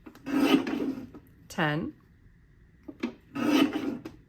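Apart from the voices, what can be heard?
paper trimmer cutting scrapbook paper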